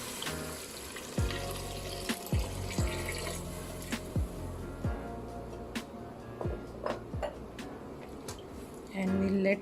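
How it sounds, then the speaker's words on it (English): Water pours and splashes into a pot of vegetables for vegetable rice, punctuated by a series of hollow knocks and clinks, ending with a louder surge of running water. "I'll add water."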